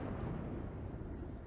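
Naval gunfire in World of Warships, a continuous low rumble of blasts and booms that stays fairly distant and steady, with no talking over it.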